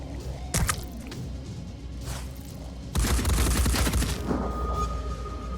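Virus version of the Arthrin gun firing in Phoenix Point: Terror from the Void, a heavy booming burst of shots near the start, then a longer, louder stretch of dense rattling fire.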